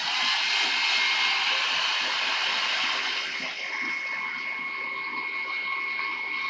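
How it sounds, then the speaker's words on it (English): A hair dryer blows steadily close up, drying colour on a wood-turned horse chestnut hollow form, a continuous loud whooshing hiss with a faint whine, no talking. "Back to the hairdryer."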